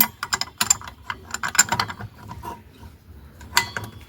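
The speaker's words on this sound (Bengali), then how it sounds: "ফুল টাইট করবেন। এখনও টাইট হয়নি, আর একটু বাকি আছে।" A wrench ratchets to fully tighten the clutch assembly nut on a Honda Activa 125 scooter, giving close, loud bursts of rapid clicking with short pauses between strokes.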